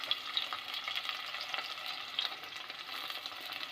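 Chopped onion and shallot frying in a pan while being stirred, a continuous bright sizzle with soft scraping textures, close and moderately quiet, with no voices.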